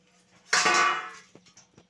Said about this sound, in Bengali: আমি এবার চাপাটা খুলে দেখবো ঠিকঠাক সেদ্ধ হয়েছে কিনা ডিমটা।